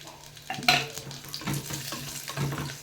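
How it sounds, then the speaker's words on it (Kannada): Whole garam masala, bay leaf, a green chilli, cashews and raisins frying in ghee, a soft sizzle broken by a few spoon-and-pan clinks and stirring scrapes, close up and with no voice. "ಇದು ಸ್ವಲ್ಪ ಹೊತ್ತು ತುಪ್ಪದಲ್ಲಿ ಫ್ರೈ ಆಗಲಿ"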